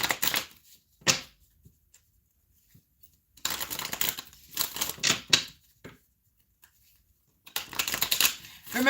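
A deck of affirmation cards shuffled by hand in three separate bursts of rapid riffling and flicking, close and crisp, with quiet pauses in between.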